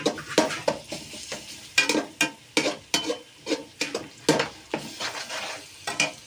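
Onion frying in oil in a kadhai with repeated stirring, a spoon scraping the wok in quick irregular strokes over a soft background sizzle, close and clear with no talking.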